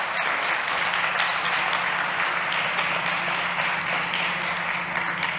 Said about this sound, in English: a big round of applause for Danny Olmedo from Enware.